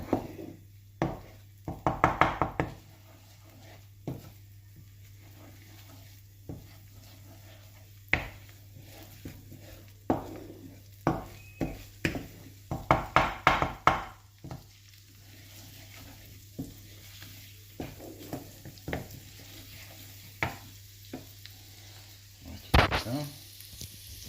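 Tripe frying in a pan with melted butter and garlic gives a low steady sizzle broken by repeated scraping and stirring clatters, some in quick clusters, close and moderately loud with no talk.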